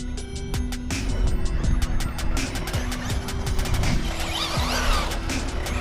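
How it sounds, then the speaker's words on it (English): An FS Racing Atom 6s RC buggy scoots over dirt and sand, its electric motor whining steadily with crunchy wheel noise and clattering bumps from nearby, continuous throughout. "What a cool little car."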